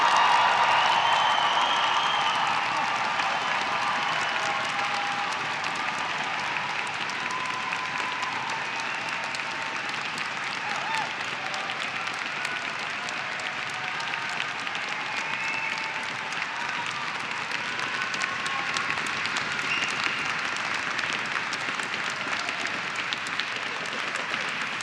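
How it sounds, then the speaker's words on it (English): Large graduation crowd at a Dundee University winter ceremony cheering and applauding for the class of 2024: a loud opening burst settling into sustained, even applause with faint voices mixed in. "let's hear, on the count of 3, that really big Dundee cheer for the class of 2024."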